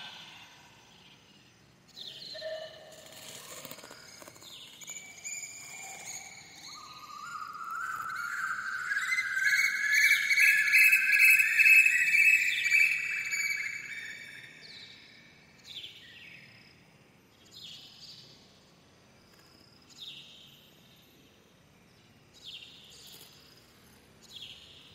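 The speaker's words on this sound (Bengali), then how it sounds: "শুনতে পেলে কোকিলের ডাকটা।" An Asian koel calls in the morning, its rising, repeated notes swelling to a clear peak midway, then fading. Faint insect and bird chatter continues around it, with no talking.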